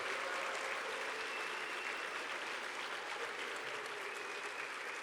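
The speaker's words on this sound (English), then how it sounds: "give them a big round of applause" Sustained applause from a large audience at a nurses' awards event, even and continuous, a little distant.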